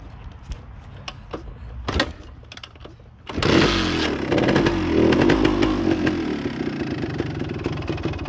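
A 1975 Yamaha DT400 motorcycle engine, still a little cold, fires up after a few quiet clicks and settles into a loud, steady, rumbling idle close by, alone without talk.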